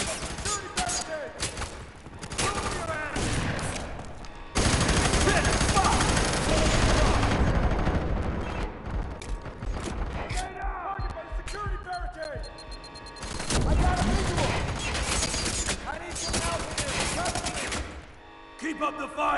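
Sustained video game gunfire in F.E.A.R. 3, dense automatic bursts and fusillades that run for several seconds at a time with brief lulls, mixed with game voices shouting commands.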